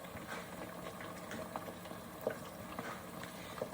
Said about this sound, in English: So it's got the top on, they're frying.